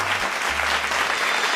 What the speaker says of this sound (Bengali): একটা হাততালি শুনবেন